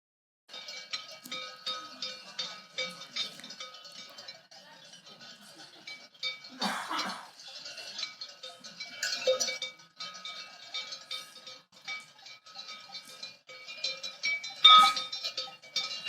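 Two flocks of sheep, one black and one white, walk together while many bells clank and jingle continuously at mid distance. A few louder bell clusters stand out, and faint voices are heard in the background.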